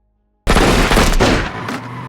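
A sudden, loud burst of rapid automatic gunfire lasting over a second and a half, dense and overlapping, ending abruptly.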